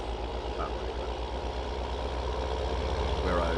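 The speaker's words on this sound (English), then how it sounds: "Oh, car coming across that way." Vehicle and engine noise in Farming Simulator 19: a steady low rumble with a faint rising tone near the end as a car passes, with no talk.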